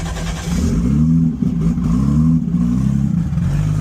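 A car engine at a race track fires up and revs, a loud, steady near mechanical drone with rising and falling surges, no voices over it.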